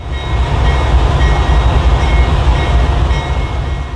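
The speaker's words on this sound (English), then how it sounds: "BNSF 602 slowly moves the train east." A BNSF freight train led by locomotive 602 moves slowly east into a rail yard, producing a steady, loud low rumble with continuous wheel and car noise.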